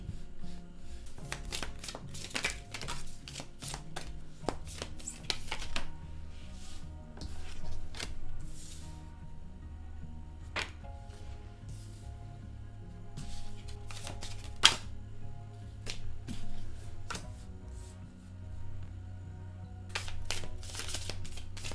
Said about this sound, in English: I'm just going to start shuffling the deck